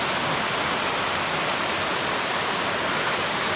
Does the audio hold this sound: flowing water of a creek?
yes